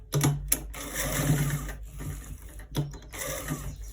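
A sewing machine stitches along a trouser front pocket, running in close, loud mechanical bursts with brief pauses between them.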